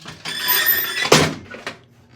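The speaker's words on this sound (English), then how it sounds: "Just knocked the ironing board over. Created a clatter. Nice little clatter." An ironing board topples over indoors in a home, giving a sudden clattering crash followed by a smaller rattling knock as it settles, close and loud after a shuffling rustle.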